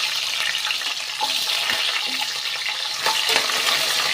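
Garlic cloves and small shallots with curry leaves sauté in a pan for a traditional Pongal curry, a close, busy crackling sizzle with scraping stirs and a few sharp clinks, no talking.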